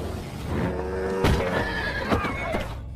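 A horse struck by a motorcycle gives loud, close neighs and whinnies, with sharp impact-like bursts and rumbling noise underneath.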